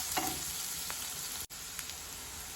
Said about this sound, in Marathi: कांदा छान ब्राऊन होईपर्यंत भाजून घ्यायचा।